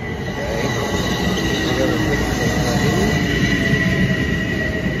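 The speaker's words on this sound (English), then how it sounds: "the train's traction motors make sound" Inside a moving train, the traction motors' loud steady electric whine hums over rolling wheel rumble, with high tonal squeals running constantly throughout.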